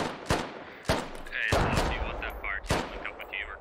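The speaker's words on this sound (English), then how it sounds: "They're both shooting to their west." Gunfire in the Squad video game, several sharp rifle shots spaced a second or so apart with bursts of overlapping fire, distant-sounding reports alongside faint radio-like chatter.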